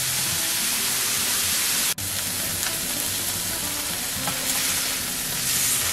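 Scallops sear on a hot griddle with a steady, loud, close sizzle and crackle that runs unbroken, with one brief sharp click partway through and no talking.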